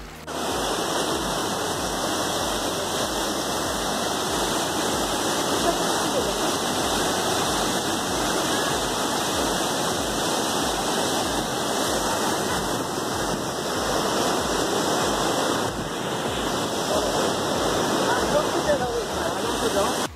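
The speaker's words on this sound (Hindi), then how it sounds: "सामने झरना भी है" A waterfall beside a hot-water river at a temple site near Jhadol, Udaipur, gives a constant loud broadband rush of falling water that stays steady throughout, close to the listener, with faint low thumps underneath.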